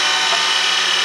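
A skew chisel cuts an orange circuit board pen blank spinning on a wood lathe, giving a steady close scraping hiss with no talking.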